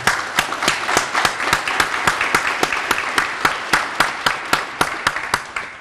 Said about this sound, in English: Just give them one last round of applause, please.